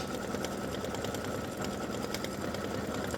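A Baby Lock embroidery machine stitches a word, its steady fast needle rattle and motor hum running loud and continuous without a break.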